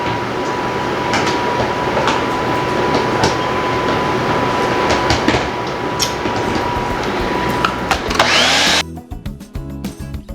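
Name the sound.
grinding cauliflower and broccoli in a kitchen appliance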